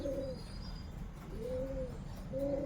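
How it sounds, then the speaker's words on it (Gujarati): Pigeons coo softly from a perch overhead, three rounded low calls spaced about a second apart, faint and somewhat distant against quiet background hum. "અને આપણે કબૂતર બધા ઉપર બેઠા છે"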